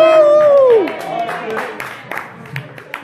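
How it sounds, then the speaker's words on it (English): A crowd at a restaurant jam session and open mic cheers for a trumpet player. A rising whoop opens it, then clapping and crowd noise continue loud and close, with voices mixed in. "Y'all clap."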